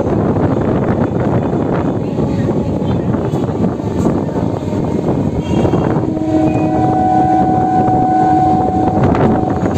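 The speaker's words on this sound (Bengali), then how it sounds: "বন্ধুরা এখন শ্রীরামপুর স্টেশন ছাড়ছে আমাদের ট্রেন" A Howrah–Bandel local train pulls out of Serampore station, a loud continuous rumble and clatter heard from on board, with a sustained tonal whine joining partway through.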